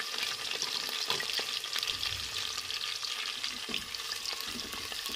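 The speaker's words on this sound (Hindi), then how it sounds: "इसे हम थोड़ा फ्राई कर लेंगे, लाइट ब्राउन करना है हमें।" Cumin seeds fry in hot oil in a pan, giving a soft, steady sizzle with scattered light crackles and pops throughout.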